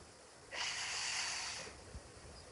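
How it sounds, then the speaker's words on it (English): A single steady exhale through the nose during a yoga breathing exercise, a soft airy hiss about a second long and close up, with quiet room tone before and after. "Close the mouth, exhale through the nose."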